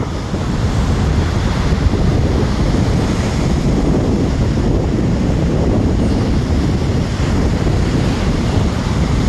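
Sea waves breaking on the beach at Iztapa, Guatemala, a continuous loud roar of surf mixed with heavy wind buffeting the microphone, with no voices.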